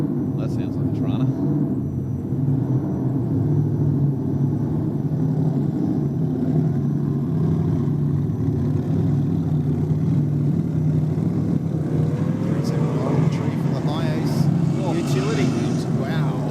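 A drag racing car does a burnout at Sydney Dragway, a loud sustained engine roar and rumble heard from a distance across the strip, while a commentator talks over it throughout.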